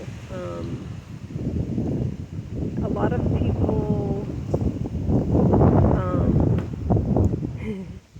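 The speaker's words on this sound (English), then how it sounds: "it's so windy right now." Wind buffets the microphone in low, rumbling gusts while a person talks over it.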